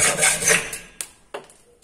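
A manual hand saw drawing through wood, a few close rasping strokes that fade, followed by two short separate scrapes, with no talking.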